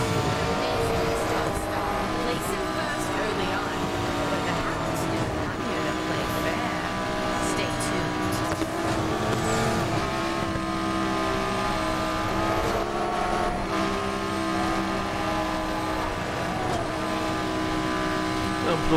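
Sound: car engine racing in Need for Speed Payback video game

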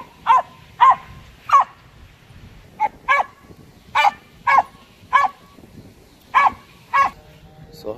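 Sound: dog barking at a squirrel

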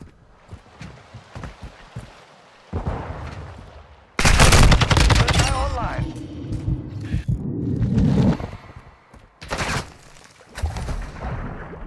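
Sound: gunfire in a video game

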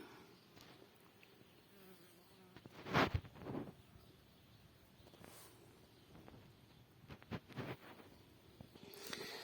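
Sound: bees buzzing at beehive entrances

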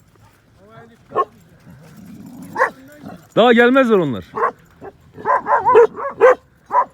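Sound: dogs barking and whimpering

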